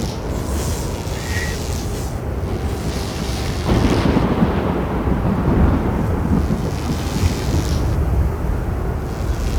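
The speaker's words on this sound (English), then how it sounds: "Lightning storm before I blow something up." A thunderstorm in the video game The Falconeer gives a steady, heavy rumble with rain. The roar swells into a deeper, louder roll partway through, and no one speaks.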